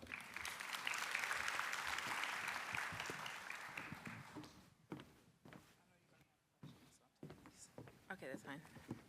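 An audience claps in welcome, a full burst of applause filling the room and then thinning out before footsteps and a lone speaker begin talking.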